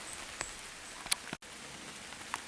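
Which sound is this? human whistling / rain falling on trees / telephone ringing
rain falling on trees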